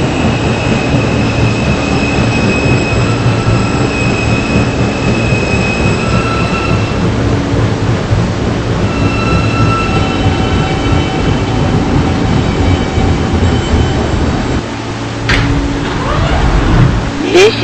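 Steady low rumble and rattling of an R160 N subway train running on the tracks in a video game, with faint tonal hums overhead and a brief squeal near the end.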